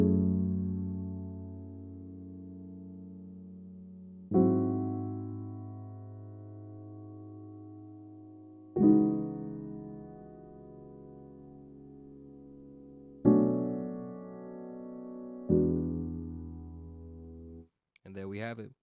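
R&B melody of sustained chords with randomized note velocities, five slow struck chords each ringing out and fading, with a brief brighter note at the end.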